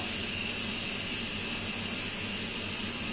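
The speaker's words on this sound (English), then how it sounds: "It can take anywhere from a minute to 2 minutes for that steam to fully release" An Instant Pot venting steam during a water test, a continuous loud hiss that holds steady and unbroken from start to finish, close to the microphone.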